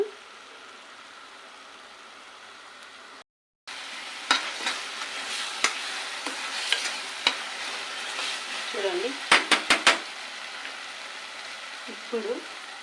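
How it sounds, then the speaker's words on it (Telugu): Green chili paste fries in hot oil for a chennangi leaf curry: a continuous close sizzle with a short break near the start, then stirring scrapes and faint spatters over the hiss. "ఆయిల్ బయటకు వస్తుంది మన పేస్ట్ కారం వేగిపోయినట్టే వేడి మీద ఉంది"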